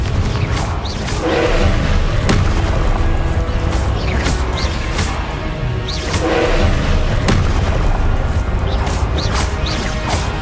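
A Confringo fire spell bursts repeatedly in a Hogwarts Legacy battle, loud booming blasts and crashes with whooshing impacts layered over a dense, continuous game soundscape.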